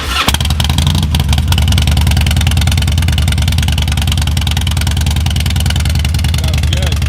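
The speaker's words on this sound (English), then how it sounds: "cycle the ignition off now and restart the motorcycle" A Harley-Davidson motorcycle engine fitted with a ThunderMax unit fires up after a restart and settles into a loud, close, steady idle with an even, rapid pulsing beat.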